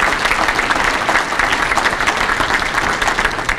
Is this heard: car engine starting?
no